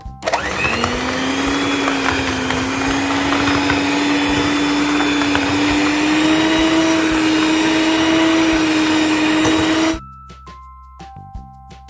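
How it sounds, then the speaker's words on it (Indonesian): Electric hand mixer beating margarine and sugar for a marble cake, a loud, steady motor whine running continuously for about ten seconds before cutting off into quiet clinks. "kemudian ini di mixer hingga tercampur rata, hingga margarinnya mengembang dan gulanya larut."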